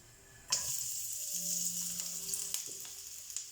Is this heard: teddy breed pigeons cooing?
no